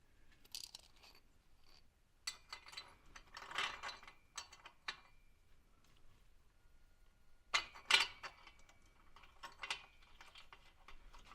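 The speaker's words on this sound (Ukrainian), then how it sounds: "можна вже повністю затягувати болти ззаду" Ratchet wrench clicking in short bursts while tightening bolts during a DIY resonator replacement on a car without a pit, with quiet pauses between bursts of ratcheting.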